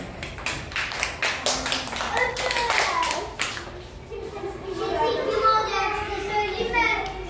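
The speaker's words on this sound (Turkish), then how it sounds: "Alkışlıyoruz." First-grade pupils clap in a classroom, a quick run of uneven claps that thins out as children's voices chatter over and after it.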